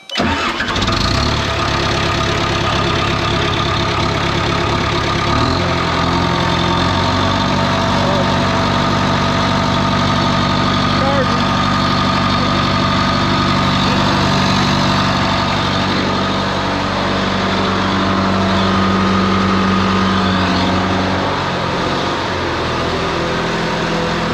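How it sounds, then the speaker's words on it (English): A damaged John Deere military dozer engine cranks and fires, then settles into a loud, steady diesel run with a low rumble that continues throughout, close and dominant with no talk over it. "Start it up, rev it up so it ain't idling."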